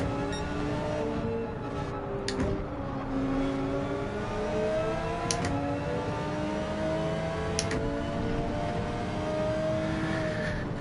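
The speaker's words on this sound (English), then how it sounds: "Very noisy car." Gr.3 race car engines in Gran Turismo 7 during an online lobby race, a continuous loud drone with shifting revs and several cars heard together, rising and falling steadily throughout.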